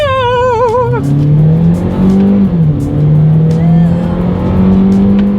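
A 2019 Hyundai Veloster accelerating hard in sport mode, engine revving up loudly with a quick shift and rising pitch, close and dominant, after a short electronic chime.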